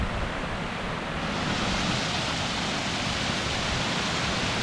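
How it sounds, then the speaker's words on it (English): Day Pond Falls in Connecticut pours with an even, unbroken hiss and roar of cascading water, close and steady throughout, with no one talking. "There's our first waterfall."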